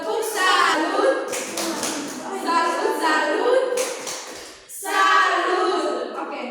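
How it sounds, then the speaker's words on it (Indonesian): A classroom of primary-school children claps a rhythmic salute for a student, a loud patterned burst of hand claps with voices mixed in, a short pause, then more clapping. "Kasih tepuk salut untuk Sani."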